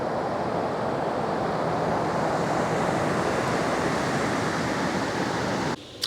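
Ocean surf breaking on the beach at La Push on the Washington coast, a steady loud wash of waves with wind rumble throughout, cutting off abruptly near the end.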